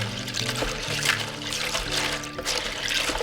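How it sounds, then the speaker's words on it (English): Pinyon pine nuts are swished and washed by hand in a bowl of water, giving continuous close sloshing and trickling splashes. "So what we do is we get some water, put it in a bowl, and then we just wash."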